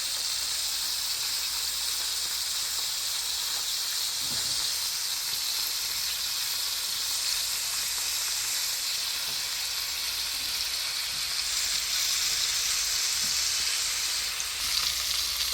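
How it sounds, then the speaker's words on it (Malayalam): Chicken frying in hot oil gives a continuous dense sizzle and hiss, steady and close throughout, with a few faint stirring knocks and no talk. "അപ്പോൾ നമ്മളിത് അതൊന്ന് ഫ്രൈ ചെയ്തെടുക്കുന്നുണ്ട്"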